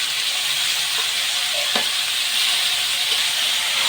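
Ridge gourd pieces fry in a hot pan, giving a loud, steady, broadband sizzle throughout with a soft stirring knock partway through and no voices.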